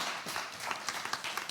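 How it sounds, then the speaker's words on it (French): An audience at an architecture conference claps in a brief, dense burst of applause lasting under two seconds. "je pense qu'on peut l'applaudir pour la contribution"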